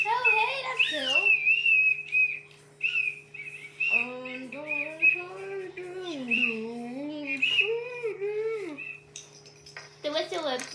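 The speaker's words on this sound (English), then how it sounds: "The whistle was one of the best bits." A toy whistle from an arcade goodie bag gives shrill, wavering warbling tones in short blown bursts, close and loud, with voices speaking between and over the toots.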